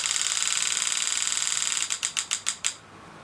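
A pneumatic engraving handpiece driven by a Super EZ graver controller fires in a steady, fast, buzzy stream, then slows into about seven separate sharp ticking hits before stopping. It is close and has no talk over it.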